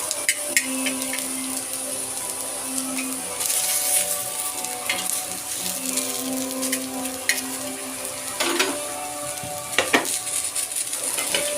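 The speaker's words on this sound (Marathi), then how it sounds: "मी इथं टोमॅटो पण भाजून घेणार आहे लसूण वगैरे सगळं भाजून घेणार आहे" Tomatoes and garlic sizzle and crackle in a hot pan, with occasional scraping stirs and light clinks, close and steady throughout.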